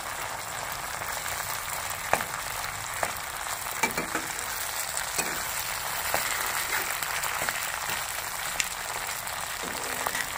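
Pabda fish sizzles steadily in a little oil in a pan, a dense even crackle with occasional sharper pops, close and continuous.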